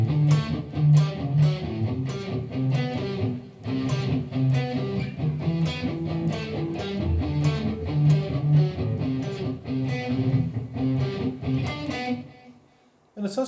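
Overdriven electric guitar riff with a retro hard rock feel, gritty chugging notes in a steady repeating rhythm, loud and close, alone without talk, ending with a short fade near the close.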